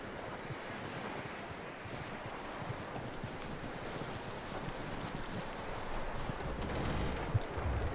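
Horse hooves clip-clopping in the video game Red Dead Redemption 2, a steady soft patter of hoofbeats amid rustling and wind, faint and continuous throughout.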